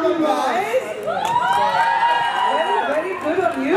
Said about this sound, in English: Bharat Tali, everybody! For helping out Priyanka, big round of applause.